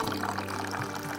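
Sparkling water poured from a bottle in a film scene makes a continuous, fizzy, rushing splash that stays loud and unbroken throughout the brief moment.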